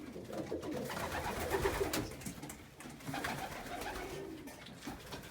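Racing pigeons coo in soft, low repeated phrases close by, with light rustling and ambient noise inside a pigeon loft.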